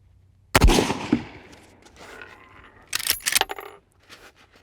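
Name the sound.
Rossi lever-action rifle firing shots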